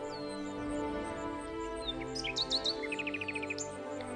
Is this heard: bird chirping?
yes